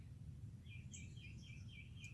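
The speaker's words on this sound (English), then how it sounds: "we can hear the birds waking up this morning here in Tennessee" Small birds chirp in a quick series of faint, high calls at sunrise by Tellico Lake, Tennessee, set against a low, steady outdoor hum with no talking.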